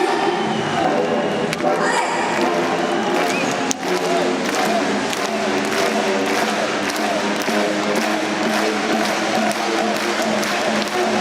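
Czech hockey fans in a Paris arena during an IIHF World Championship game clap in rhythm and chant loudly, filling the space as a crowd, while a voice talks over it.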